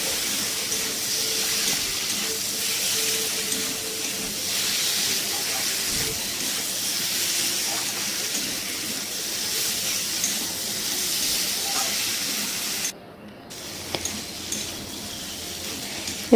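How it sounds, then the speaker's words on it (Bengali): Potatoes, pointed gourd and soy chunks sizzle steadily in hot oil in a pan, a continuous close hiss and crackle with a brief dip near the end. "এবার সবজিগুলো দিয়ে দিতে হবে আলু পটল আর নিউটেলা ভালো করে কষিয়ে নিতে হবে"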